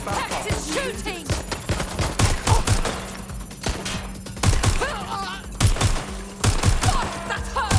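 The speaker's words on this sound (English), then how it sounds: "Suspect is shooting!" Rapid bursts of automatic gunfire in the video game Watch Dogs: Legion, loud and repeated throughout with sharp shot transients, mixed with game effects and a character's shouted voice.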